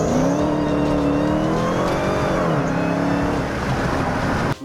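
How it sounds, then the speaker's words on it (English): A Dodge Hellcat following close behind, its engine droning loud and steady with rising and falling revs for several seconds, no voices over it. "A random Hellcat just started following us."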